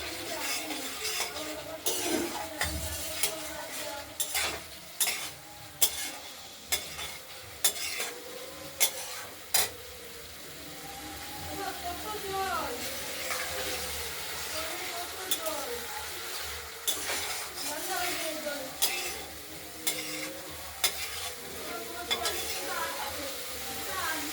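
Paneer curry masala sautéed and stirred in a pan for a potato, tomato and paneer gravy, with steady sizzling and repeated sharp clinks of a spatula against the pan, the scraping rhythm continuing throughout at close range while faint voices sound in the background.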